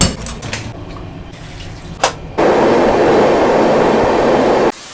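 The Shreedham Express passenger train runs at night, a few clattering knocks giving way to a loud, steady rushing rumble of wheels on rails that holds for a couple of seconds before cutting off.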